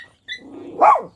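A dog barks once, a sharp close bark rising out of quieter outdoor ambience at a countryside picnic, with a brief lead-in whine and a soft yip.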